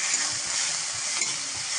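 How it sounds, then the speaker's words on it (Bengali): Steady hiss of onions, cumin, bay leaf and green chillies frying in a hot pan, a continuous close sizzle with faint stirring scrapes and no talking. "একটু ভালো করে ভাজা ভাজা করে নিয়ে"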